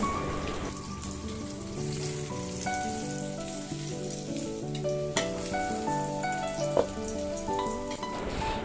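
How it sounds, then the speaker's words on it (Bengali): Potatoes fry in hot oil in a kadai over a medium-low gas flame, a continuous close crackling sizzle with occasional sharper pops, with no talking. "ওই তেলের কড়াইতে আরও 1 টেবিল চামচ তেল গরম করে প্রথমে আলুগুলো ভেজে তুলে নেব।"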